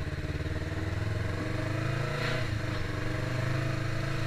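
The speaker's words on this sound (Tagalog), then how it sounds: "Tumatalon na yung motor." Yamaha R3 sport motorcycle engine during wheelie practice, a steady close idle-to-revving drone that swells slightly near the middle and stays loud throughout.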